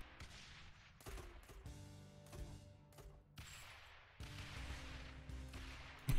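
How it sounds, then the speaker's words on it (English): Gunfire and explosions in the tower-defence video game Rogue Tower sound as sharp, quiet bursts and booms that repeat irregularly over a low background hum. "He's just running with explosions right in front of him."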